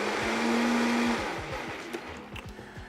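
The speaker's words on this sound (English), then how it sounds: "I accidentally had the blender on the high speed already" A kitchen blender running on high speed, loud whirring with a steady pitch that drops and rattles as the motor slows, leaving rhythmic chopping pulses toward the end.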